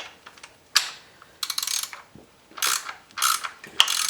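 A ratchet tightens the bottom engine mount bolt on a BMW E9x 328i with the N52 engine, giving several short bursts of close, sharp clicking with brief pauses between them, and no voices.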